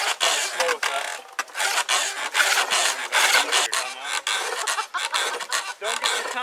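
A hand tool shaves wood at a primitive-skills gathering, making a dense, continuous rasping scrape in repeated strokes with brief breaks, loud and close.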